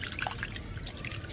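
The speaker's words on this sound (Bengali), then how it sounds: "বেশি চেপে চেপে ধোয়ার দরকার নেই, এরকম হালকা হাতে ধুয়ে নিলেই এর গা থেকে যত নোংরা আছে সব বেরিয়ে যাবে।" Flattened rice (chira) is washed by hand in water, a close, steady sloshing and trickling with small drips, no voices.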